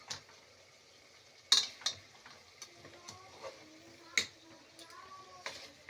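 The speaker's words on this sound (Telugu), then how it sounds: "ఇప్పుడు బాగా అయితే మిక్స్ చేసుకోవాలా." Spoon scraping and clinking against a pan while tomato curry is mixed, a few scattered metallic knocks over a soft sizzle, with a voice talking quietly in the background.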